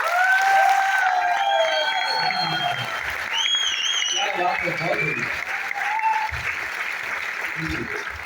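Audience applause at a network marketing event, a steady wash of clapping that fades gradually over several seconds, with brief voices and crowd murmur mixed in.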